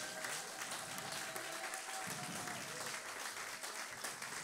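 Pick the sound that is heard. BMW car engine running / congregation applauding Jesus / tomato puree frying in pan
congregation applauding Jesus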